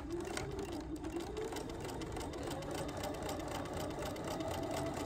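A domestic sewing machine runs steadily at a quarter-inch seam allowance, stitching forward a short way and then reversing to backstitch, its whirring motor loud and close with a continuous rapid needle chatter and no talk.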